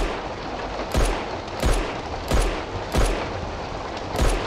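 Heavy gunfire in the horror game FOBIA hits a creature, coming as about six loud, evenly spaced shots, each a sharp crack with a deep booming tail, over a low ambient hum.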